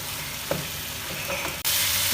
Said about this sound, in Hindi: चिकन को हमने फ्राई कर लिया है ऑयल में